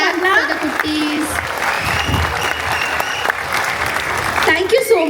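Parents applaud to send off children at a dance company's mega dance night, a loud, sustained crowd clapping with cheers and voices mixed in throughout.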